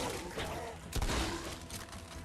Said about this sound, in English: shotgun really holds its own